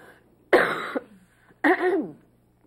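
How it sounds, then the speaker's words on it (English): Two harsh coughs from a person with bronchitis, close and loud, separated by a short pause, with no talking. "The cough."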